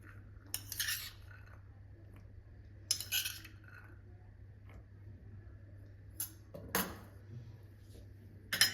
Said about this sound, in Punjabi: ਇਹਨੂੰ ਆਪਾਂ ਚੰਗੀ ਤਰ੍ਹਾਂ ਮਿਕਸ ਕਰ ਲਾਂਗੇ